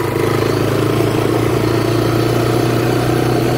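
An ATV four-wheeler used for mudding runs in fourth gear, a steady, close, loud engine drone with a low hum and no pauses, with no voices.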